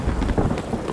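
Steady game rain in Escape from Tarkov's Reserve map, a dense broadband patter with low rumbling undertones, constant and fairly loud throughout with no talk.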